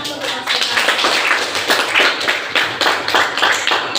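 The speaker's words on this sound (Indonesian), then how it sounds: "Tepuk tangan untuk mereka." Children clapping their hands together in a classroom, a close, loud run of sharp claps that come in uneven bursts, with no voices over them.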